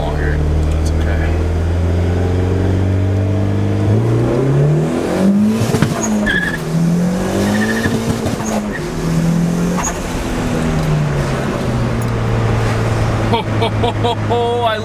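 A turbocharged Honda Civic EG hatchback accelerates on a test drive, its engine note rising and falling through gear changes with some tire noise, loud and continuous throughout.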